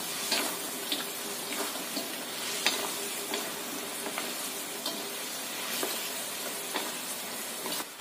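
Chicken simmers in a thickening Mongolian-style sauce in a pan, giving a steady soft sizzle and bubbling with intermittent stirring clinks and scrapes, moderately close with no talk.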